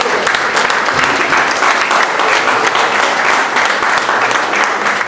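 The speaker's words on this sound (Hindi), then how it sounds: "फोटो के समय भी तालियां बज सकती हैं।" An audience applauds at a book launch and honouring ceremony, with loud, dense clapping that stays steady for several seconds.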